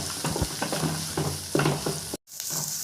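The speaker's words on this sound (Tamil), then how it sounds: "இப்போ இதெல்லாம் நல்லா எண்ணெயில் வதங்கி வரணுங்க" Onion, garlic and seeded dried chillies sauté in oil in a pan, with a steady close sizzle and repeated scraping stir strokes, and a brief cut to near silence before the frying resumes.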